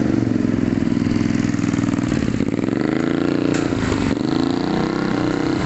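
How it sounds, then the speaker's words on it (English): A loud motorbike on a street in Cambodia roars past close by, its steady buzzing engine note swelling and then shifting in pitch as it goes by, with no talk over it. "Let me get that loud motorbike."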